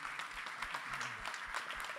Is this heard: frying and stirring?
no